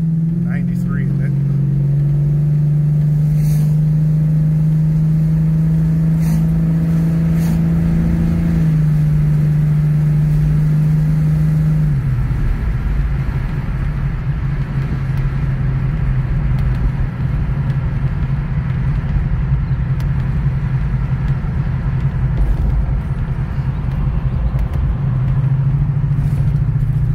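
Buick GS400 engine rumbling steadily while the car is driven, a loud low drone that drops in pitch partway through, with a person talking over it.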